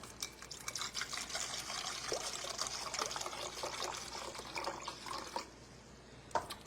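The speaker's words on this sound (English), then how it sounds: "And I'm going to do a cup of regular distilled vinegar." White distilled vinegar poured into a cup, a faint steady trickling stream of liquid heard up close for several seconds before tapering off, with no voices.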